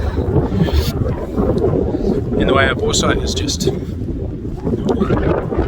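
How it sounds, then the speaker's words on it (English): Strong wind buffets the microphone with a constant low rumble while someone speaks over it at an outdoor rifle range. "it's really windy"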